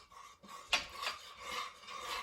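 A metal utensil scrapes the last honey from a green nonstick pan: a few short, rasping scrapes close up, with a sharper clink of metal on the pan partway through.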